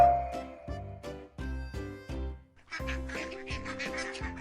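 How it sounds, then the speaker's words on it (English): A duck quacks repeatedly in a loose rhythm, about a dozen nasal honking calls close up, the later ones busier and overlapping, with no talk. "It's the duck."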